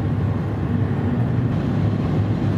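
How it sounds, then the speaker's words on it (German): A Mercedes-AMG C 63 S Coupé travels at around 160 km/h, and inside the cabin a steady low roar of wind and road rushes continuously with no voices. "Die Windgeräusche von der Seite werden jetzt doch deutlich lauter."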